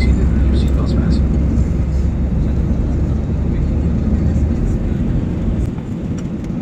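Steady low engine roar fills an airplane cabin during its descent for landing. The drone is loud and continuous, with faint cabin sounds above it.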